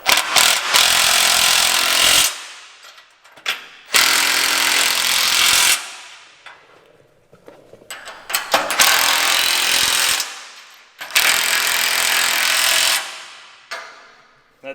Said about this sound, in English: so I'm going to go ahead and tighten them all up.